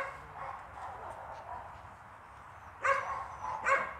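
A small female pet dog gives two short barks or yips near the end, following a stretch of quiet indoor background.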